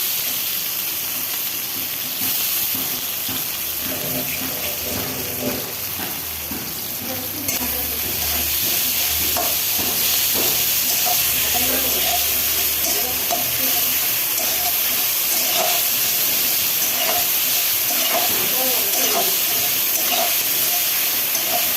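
Ginger and garlic frying in oil in a pan for a meat dish, with a steady loud sizzle and occasional scraping stirs that continue throughout.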